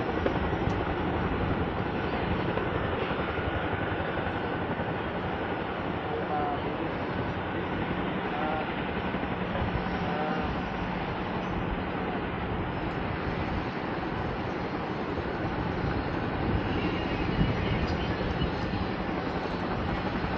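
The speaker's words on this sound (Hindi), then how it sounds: "अब वो देखो आर्मी का हेलीकॉप्टर, कुछ सामान लेके आया था अभी।" An army helicopter flies over the Kedarnath valley in the mountains, and its steady, loud rotor and engine drone fills the whole stretch without a pause.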